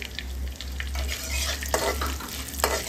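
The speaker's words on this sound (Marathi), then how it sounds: "हे मसाले आपल्याला करपू द्यायचे नाही आहेत, त्यामुळे लगेचच परतवते आहे" Spices being sautéed with lentils in a hot pan for a garlic-coconut chutney, a steady close sizzle with a few sharp scraping stirs of a spoon against the metal near the end.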